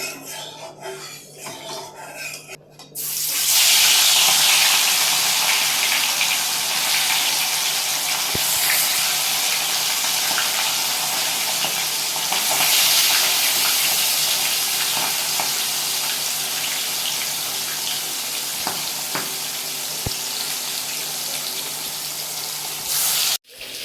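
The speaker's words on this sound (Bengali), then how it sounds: "তো তেলটা আমাদের গরম হয়ে গেছে, এরপর এর মধ্যে দিয়ে দেবো মাছগুলো।" Katla fish pieces frying in hot white oil, a loud, steady, close sizzle that bursts in after a few quieter seconds and carries on evenly with occasional crackles and pops.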